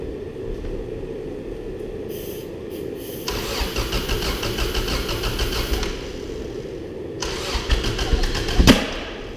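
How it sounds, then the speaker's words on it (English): A Subaru rally car engine cranks and turns over while starting fluid is squirted into the carburetor, a steady mechanical churn building over several seconds and ending in a short sharp pop near the end. "so I'm gonna try and start it up while Ivy squirts starting fluid down the ca"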